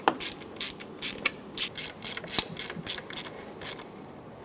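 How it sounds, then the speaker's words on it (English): A hand ratchet clicks in quick rhythmic bursts while tightening the ignition coil bolts on a 2003-2009 Dodge Ram 2500 with the 5.7L V8, the close, crisp ratcheting repeated steadily with short pauses between strokes. "so let's tighten them up."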